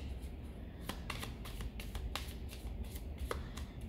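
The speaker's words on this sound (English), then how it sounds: "So first I'm going to shuffle to clear the energies." A deck of cards being shuffled, heard alone as a quick series of crisp riffling bursts and soft flicks over a faint room hush.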